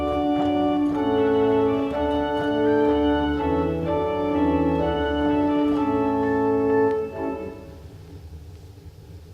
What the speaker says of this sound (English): We're going to take our Bourdon 16-foot and we're going to add the coupler grate to pedals.